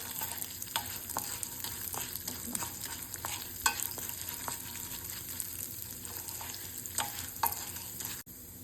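Tempering seasoning and lentils splutter in hot oil for a bottle gourd seed pachadi, giving a steady quiet sizzle dotted with small sharp pops and crackles, and a few utensil clicks before an abrupt stop.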